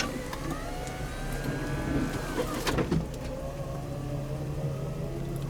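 Electric convertible roof lowering on a new car, a steady whirring motor drone with faint mechanical clicks and a brief clunk midway, close and continuous.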